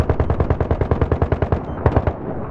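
A heavy machine gun in Battlefield 1 fires a long, rapid, evenly spaced burst, loud and close, then pauses and returns with a few last heavy shots.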